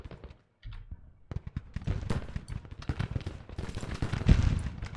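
Simulated Civil War battle in the strategy game Grand Tactician, with dense, continuous rifle volleys and booming cannon fire crackling and thumping in irregular bursts, building louder toward the end after a brief near-silent gap.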